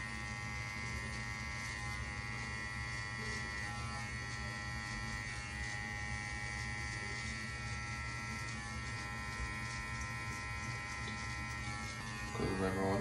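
Electric hair clippers buzz steadily and close while cutting a high taper on a self-cut, a constant motor drone with a louder burst at the end.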